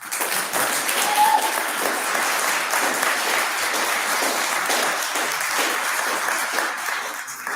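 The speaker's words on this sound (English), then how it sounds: "The applause." Applause from the audience at a city council meeting in Milton: a sustained wash of many hands clapping fills the room at a steady level before tapering slightly at the end.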